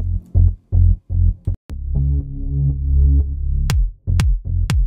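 A kick drum pounds in a regular beat beneath sidechain-compressed synth pads in Logic Pro X, with the pads ducking and pumping after each hit, loud and close with no talking.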